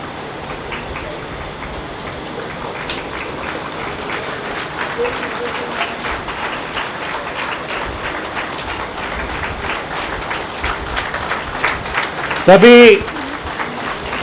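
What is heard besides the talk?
audience applause, standing ovation with loud clapping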